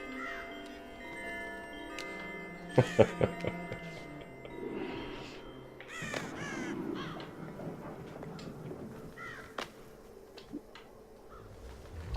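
Crows caw in the Child of Light video game, with scattered harsh calls and a few sharp ticking clicks amid layered game ambience and music.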